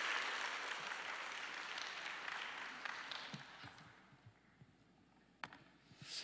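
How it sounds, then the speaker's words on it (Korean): A church congregation applauds to welcome a missionary, full dense clapping that fades out over a few seconds, followed by a few isolated claps and quiet room sounds. "여러분 박수로 선교사님 환영해 주시면 감사하겠습니다"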